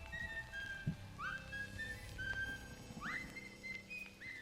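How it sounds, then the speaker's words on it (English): Repeated rising whistle tones ring out over a quiet livestream of an otome dating game, several short glides and held notes in a row, fairly faint, with no talking. "I'm waiting for the whistle to stop."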